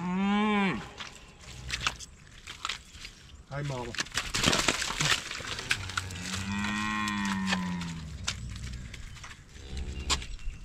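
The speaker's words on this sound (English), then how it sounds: "All right, cow." A freshly calved, agitated cow moos several times, deep drawn-out bellows close by, with someone speaking briefly between the calls amid outdoor rustling.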